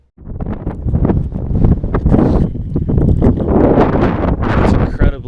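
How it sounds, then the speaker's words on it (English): Strong, cold wind buffets the microphone outdoors in a steady loud roar with gusty surges throughout, broadband rumble dominating from start to finish. "It's incredibly windy."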